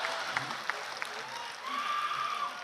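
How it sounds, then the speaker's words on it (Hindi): Audience applause at a Hindi kavi sammelan poetry stage show, a soft continuous wash of clapping with a few sharper claps early on and a voice speaking over it midway. "जरा जोरदार दोनों हाथ उठा के एक बार तालियां बजा दीजिए"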